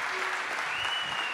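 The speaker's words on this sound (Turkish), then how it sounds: "Kendilerini alkışlıyoruz." A studio audience on a Turkish music television show claps in thanks to the production team, a dense, even wave of applause that lasts the whole brief moment with no speech over it.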